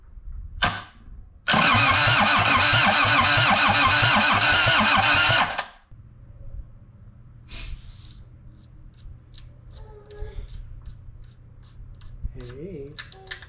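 A Kubota engine, bought cheap, cranks once briefly, then catches and roars steadily at high revs for about four seconds before cutting out, followed by quieter clicks and scattered background sounds.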